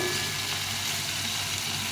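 Mixed vegetables fry with spices in a little oil, giving a steady, dense sizzle that holds evenly loud and close throughout without any talking.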